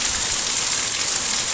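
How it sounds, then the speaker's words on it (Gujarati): Heavy nighttime rain during a thunderstorm, a dense, steady roar of downpour that fills the short stretch evenly and loudly with no voices. "ધોધમાર વરસાદ વીજળી કડાકા બડાકા સાથે વરસાદ આવ્યો છે."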